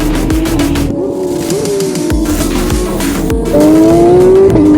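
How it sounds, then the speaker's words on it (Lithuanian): Audi race cars brake into the first corner of a circuit, engines loud and close with rapid downshift blips, tire squeal and a rising revving pitch as they power out. "Prasideda priekyje dvi Audi ir pažiūrėsim, kaip jos įvažiuos į tą pirmą stabdymo zoną."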